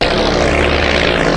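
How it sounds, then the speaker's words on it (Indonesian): A propeller airplane flies close by, its engine a loud, steady, unbroken roar that fills the whole moment. "Atami memaksa sang pilot untuk menerbangkan pesawat dan meluncur ke arah yang sama dengan kapten."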